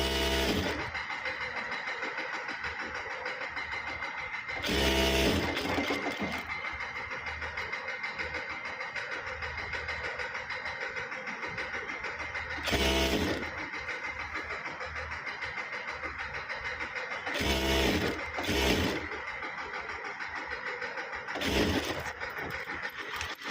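A sewing machine stitching the side seam of a kurti gives a continuous steady mechanical whir, with several brief louder bursts as the stitching speeds up or jolts, close and moderately loud.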